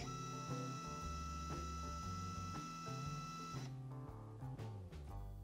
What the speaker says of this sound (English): we'll go ahead and home the machine before running.